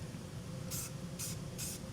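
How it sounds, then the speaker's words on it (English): Short bursts of spray paint hiss onto bare metal under a vehicle, three separate sprays about half a second apart over a steady low background hum, while a Kia Carnival trailer hitch is fitted. "I'm just going to take a little spray paint and just touch that up so we have corrosion protection."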